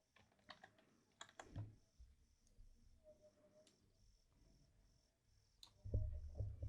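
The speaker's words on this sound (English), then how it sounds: "I'm cutting by doing Control X on my keyboard" Keystrokes on a computer keyboard during a Control X cut shortcut while editing in Camtasia, a few sharp close clicks in small clusters with short pauses between, over a faint steady background hum.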